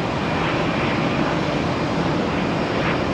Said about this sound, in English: That's got to belong to a WestJet.